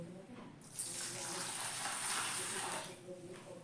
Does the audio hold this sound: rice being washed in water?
yes